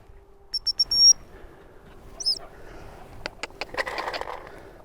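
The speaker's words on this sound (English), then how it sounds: "As soon as I use this whistle," A dog training whistle is blown outdoors in the country during recall practice: three quick high blasts, then a short warbling note, followed by light rustling and scattered clicks at low level.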